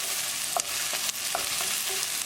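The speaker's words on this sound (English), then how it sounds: "After adding green chili, mix it all and keep cooking until the onions are nicely brown." Onion and green chili fry in a pan for a lobster and potato curry, a steady close sizzle broken by several sharp scrapes and clicks of a spoon stirring, with no talking.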